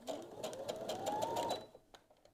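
A sewing machine runs steadily for about a second and a half, stitching a seam of bias-cut fabric at a short 1.8 stitch length, its rising motor whine close and clear before a few light mechanical clicks.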